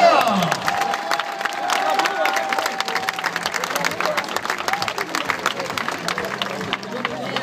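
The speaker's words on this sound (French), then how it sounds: "Applaudissements" A large crowd at a sports club open day claps and cheers loudly, a busy mix of applause and excited voices that stays lively from start to finish.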